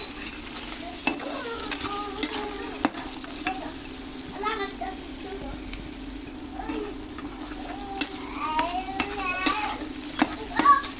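Dried kholisha fish shutki stir-fries in a pan with chilies, giving a soft continuous sizzle under repeated scraping stirs of a spatula, close and moderately quiet.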